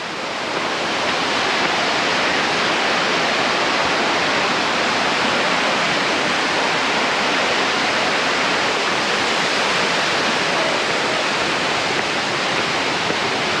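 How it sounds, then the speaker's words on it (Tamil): A waterfall pours down a rocky drop at an outdoor bathing spot, a steady, dense roar of rushing water that fills the whole stretch without pause, close and loud, with no voices over it. "மேலே அங்கே தான் தண்ணி பாயுது."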